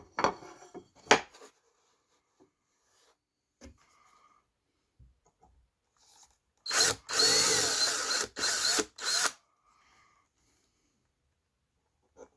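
A power drill drives number 6 wood screws into a wooden table saw sled. It makes a few short clicks and taps, then three close, loud whirring bursts that end in a quiet pause.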